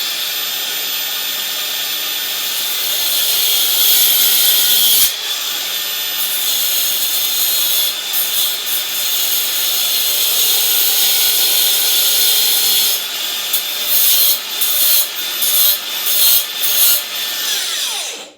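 A power cutting tool trims the edges off a fitting piece for a bathroom bracket. It makes a loud, steady grinding whine with a brief break near five seconds, then choppier bursts toward the end, with no talk.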